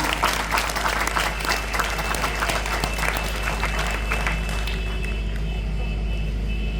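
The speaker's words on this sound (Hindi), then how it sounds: "big clapping for her। जोरदार तालियां।" Sustained applause from a large crowd at a school Republic Day function, steady and loud throughout, tapering slightly near the end.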